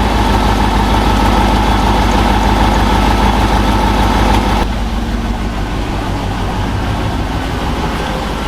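A GM OBS truck engine idles steadily up close, with a rapid rhythmic tick from an exhaust leak at a missing bolt; the tone shifts and drops slightly partway through, and the idle runs on unbroken with no talking.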